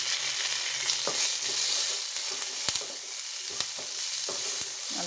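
Small shallots, garlic, dried red chillies and cashews sauté in a pan. A constant bright sizzle is broken by a few sharp ladle taps and scrapes, close and clear, with no talking.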